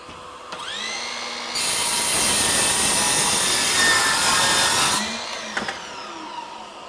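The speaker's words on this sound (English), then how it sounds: "So here goes in a piece of 1-inch hardwood." Ryobi 18V 7-1/4-inch sliding compound miter saw cutting a 1-inch piece of hardwood, with dust extraction running. A motor whine rises into a loud, bright cut of about three and a half seconds, then spins down in a nearby workshop with no speech.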